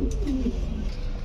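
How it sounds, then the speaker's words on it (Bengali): Cooing from Lakha pigeons, a short soft bubbling coo sounding close by against a low steady background. "দর্শক যারা অরিজিনালি আমেরিকান লক্ষা কবুতর খুঁজতেছেন তাদের জন্য এই লক্ষা কবুতরটা দেখেন"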